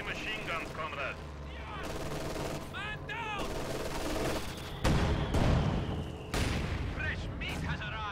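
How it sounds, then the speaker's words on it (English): Battlefield gunfire in a World War II strategy game, with a Dushka heavy machine gun in play: bursts of rattling fire and heavier booms mix with chirpy game effects, fairly loud, under a voice talking. "Cruzz has a machine gun of his own now"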